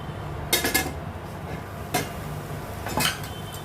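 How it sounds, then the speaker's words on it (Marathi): A metal lid is lifted off a cooking pot of wild monsoon greens, producing a few close clinks and rattles spaced about a second apart over a faint steady background. "चला तर मी आता झाकण हे उघडते"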